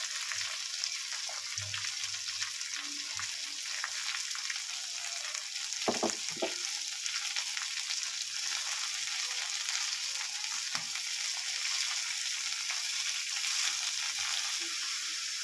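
Spices frying and sizzling in a hot pan for a Bengali cabbage dish, a steady bright hiss with a few soft stirring scrapes and clinks near the middle, close and continuous with no talk.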